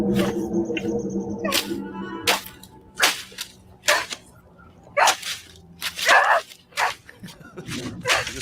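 A dog in a horror film yelps and barks in short sharp bursts, repeated irregularly over several seconds, with film audio and voices mixed in.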